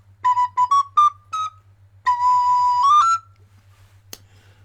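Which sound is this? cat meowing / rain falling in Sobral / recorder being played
recorder being played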